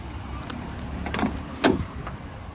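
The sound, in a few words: car bonnet being opened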